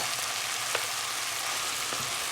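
Rice is tipped into a dry pan of mixed vegetables, ginger, garlic, onion and spices for vegetable pilau, setting off a steady, moderate hiss of frying with a couple of faint taps.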